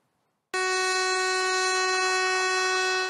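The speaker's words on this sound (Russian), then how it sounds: "Поезд дает гудок на старт по очередному участку обновленной Байкало-Амурской магистрали." A train horn on the rebuilt Baikal-Amur Mainline near the Sea of Okhotsk coast blasts suddenly after a brief silence and holds one loud, steady, bright tone to the end.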